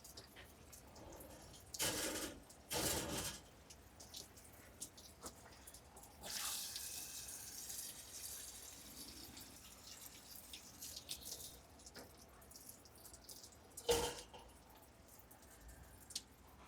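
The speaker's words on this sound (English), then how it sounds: "So we'll get it in the rinse tank and see what it looks like." Hydro dipped part being rinsed in a rinse tank, a few bursts of splashing, gushing water separated by quieter dripping and handling sounds, close and moderately loud.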